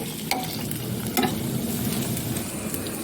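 Fried mustard seeds, chili and coconut are stirred into erissery in a hot pan: a continuous close sizzle broken by a couple of sharp spoon scrapes, with no voices.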